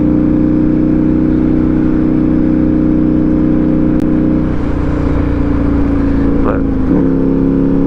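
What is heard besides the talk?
motorcycle exhaust while riding Cottonwood Pass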